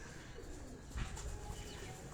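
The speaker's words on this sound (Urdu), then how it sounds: "ان کیجز میں جو کبوتر آپ کو نظر آ رہے ہیں" Caged pigeons coo steadily at a close distance, with a low, throaty murmur that runs through the whole stretch and swells briefly near the middle. No voices are heard.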